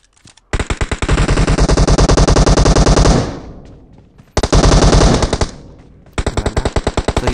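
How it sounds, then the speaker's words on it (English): Rapid automatic gunfire from guns in the mobile game PUBG Mobile, three loud, close bursts of fast, even shots separated by brief pauses, with no talk over them. "I missed my shots, but I changed really quick to my other gun."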